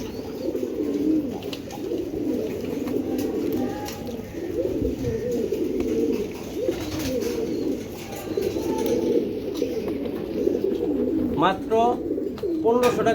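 A pair of Giribaz pigeons, green-necked birds, coo in a continuous, throaty, rolling murmur close at hand, with voices talking over them and a few sharper calls near the end.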